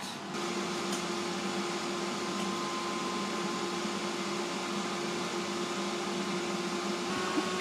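A Silvercrest SHFD 2150 A3 air fryer of 2150 W runs at 200 degrees with a steady fan whoosh and a constant motor hum, unbroken and fairly quiet, with no voices.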